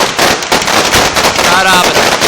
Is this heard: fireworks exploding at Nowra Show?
yes